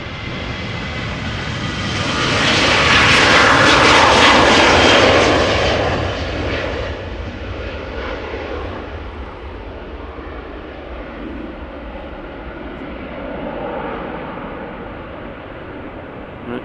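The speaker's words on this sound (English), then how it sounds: "This is KLM flight 1127. It is a Boeing 737-800 outbound to Copenhagen." A KLM Boeing 737-800, 23 years old, takes off from Amsterdam Schiphol bound for Copenhagen, its jet engines swelling to a loud broadband roar and then easing into a steady fading rumble as it climbs away.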